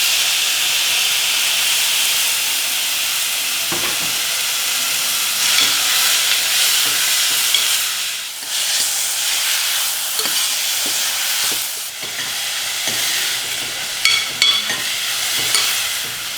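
Vegetables and chopped tomato frying in a hot pan for an Indian home-style thali, a loud, steady sizzle and hiss up close, broken by repeated scraping and tapping of a spoon as the mixture is stirred.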